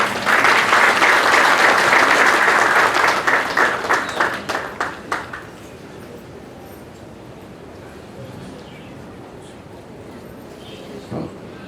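An audience in a hall applauds a student from the Guru Virjanand school at a ceremony honouring pupils. Loud, dense clapping breaks into a few scattered claps and fades out about halfway, leaving a quiet room with a faint later knock.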